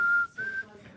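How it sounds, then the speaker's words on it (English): A steady whistled tone, held for a moment, breaking off briefly, then resuming at a slightly higher pitch before fading out. "that's enough of the whistling now"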